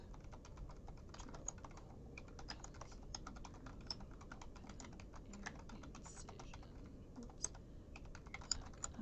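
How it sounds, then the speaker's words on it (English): Steady, quiet typing on a computer keyboard, with rapid irregular key clicks continuing throughout at close range and no talking. "I'm just going to type to key this information in."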